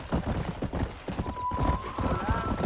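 Horse hooves gallop in quick, rhythmic clip-clops while riding in the video game Red Dead Redemption, close and steady, with a faint whinny-like tone rising near the end.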